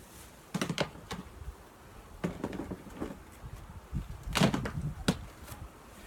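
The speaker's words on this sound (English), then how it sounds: "There's like a whole thing of bees down here just feasting on this honey" Honey bees feasting on spilled honey during a honey harvest: soft, intermittent buzzing and brief scuffing bursts close by, separated by quiet stretches.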